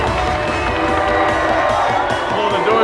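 A large indoor crowd at a CrossFit Open event cheers and roars for an athlete, a dense, steady wall of shouting and whooping that holds at full loudness throughout.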